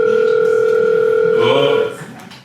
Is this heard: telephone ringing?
yes